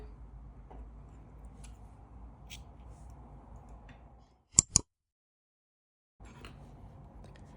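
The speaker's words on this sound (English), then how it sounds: "Chain 1, and you can now cut off your yarn." Two quick sharp snips of scissors cutting crochet yarn after a granny square round, close and crisp, standing alone after a soft background hiss drops away, then the faint room hiss returns.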